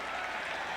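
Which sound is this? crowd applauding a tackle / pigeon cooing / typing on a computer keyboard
crowd applauding a tackle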